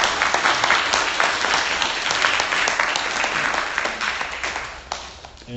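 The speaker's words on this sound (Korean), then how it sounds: "우리 박수로 정리하겠습니다" A church congregation in New York applauds together after a guest talk, a dense, steady wash of many hands clapping close by that thins slightly toward the end.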